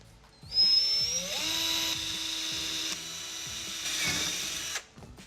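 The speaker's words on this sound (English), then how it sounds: "Now as I drill this hole, I'm only going to go deep enough to go through the material." A power drill whines up to speed and runs steadily for about four seconds drilling a hole into a wall stud, then winds down and stops, close and loud.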